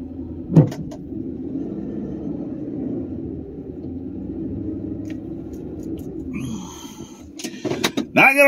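A truck in four-wheel drive strains to pull a heavy load. Its engine drones steadily at low pitch for several seconds, then tapers off into scattered clunks and scraping noises near the end.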